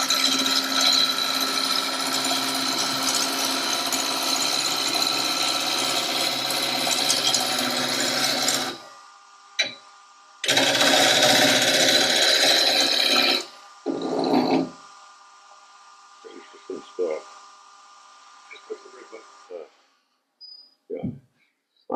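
A spindle roughing gouge cutting wood on a lathe at a woodturners' meeting, with long steady scraping hiss in two sustained bursts, then brief cuts and stops as someone talks over the quieter gaps.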